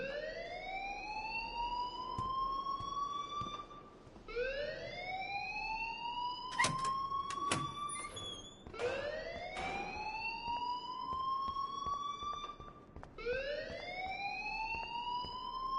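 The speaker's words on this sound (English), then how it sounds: "please turn off that alarm since that's your job" A school alarm in Life is Strange wails loudly in repeated rising sweeps, about four cycles, like a siren, with a few clicks and knocks between the sweeps.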